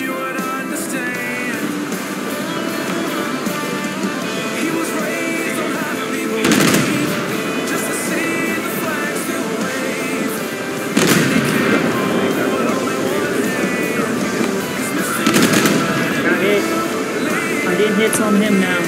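Rapid bursts of gunfire in the War Thunder video game, with dense, loud machine-gun rattles over a steady engine drone and several heavier impacts recurring every few seconds throughout.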